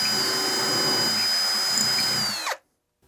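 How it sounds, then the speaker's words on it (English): Hand-held power drill boring 3/16-inch bridge pin holes in an acoustic guitar, a steady high whine running close and loud for about two and a half seconds before winding down and stopping abruptly. "I'm drilling this by hand with a 3/16 drill bit."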